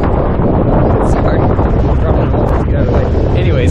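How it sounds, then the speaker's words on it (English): Steady, loud wind buffeting the microphone throughout, a constant rumbling roar with no pauses. "It's windy."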